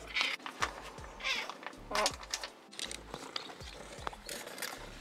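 A pet cat named Nani meows repeatedly inside a camper van, several close, insistent calls spread across the moment, with light tapping and handling noises around them.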